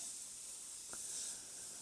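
An airbrush fed from an air line sprays FW Inks Dark Sepia ink at very low pressure, a faint, steady hiss with a brief soft puff partway through.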